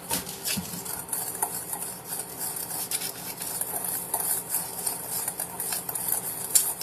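Apple crumb pie ingredients being mixed in a bowl, a steady scraping, clinking stir with utensil taps against the bowl, close and moderately loud with no talking.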